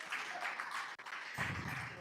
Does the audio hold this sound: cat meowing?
no